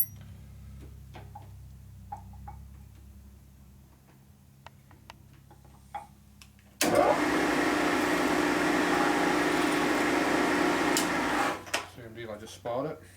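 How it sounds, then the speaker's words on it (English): A drill bores out a brass bushing in an aluminum Harley shovelhead engine case, a loud, close, steady whirring that runs about five seconds after quieter handling noises, then stops abruptly. "we just drill right down the same hole. And we'll cut the bushing in, cuts a little bit of aluminum away"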